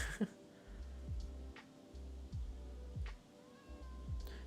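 A cat in the Minecraft video game meows several times in a row, short nasal cries repeating at fairly regular intervals over a quiet in-game background.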